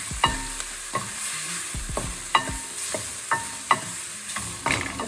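Seasoning being stirred into coconut fried rice in a hot pan, a bright continuous sizzle punctuated by regular scraping strokes of a spoon about once a second, close and loud.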